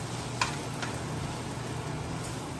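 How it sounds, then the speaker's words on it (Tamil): Ginger garlic paste sautés in a pan on a home stove for a chicken dum biryani, giving a soft, continuous sizzle with a couple of faint clicks, steady and close. "இஞ்சி பூண்டு பேஸ்ட்டு கொஞ்சம் வதக்கணும்"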